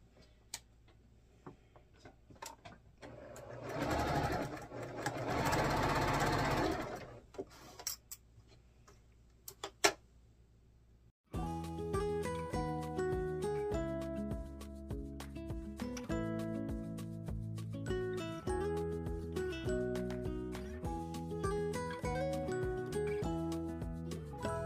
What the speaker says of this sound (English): I'm just going to sew them all together here.